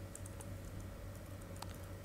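Quiet, rapid keystrokes on a computer keyboard tap out while entering a voucher into Tally ERP9 accounting software, light irregular clicks over a low steady hum.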